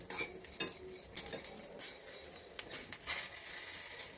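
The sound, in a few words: pomegranate peel and black pepper frying in a pan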